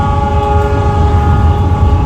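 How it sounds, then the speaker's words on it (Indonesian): Ranggajati passenger train sounding a long, loud sustained horn over the deep rumble of the running train, close by and continuous with no talk. "Yang pertama itu adalah kereta api Ranggajati ini"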